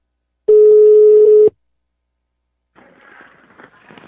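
A telephone keypad tone sounds once for about a second, loud and close. After a pause of silence, faint muffled talk follows.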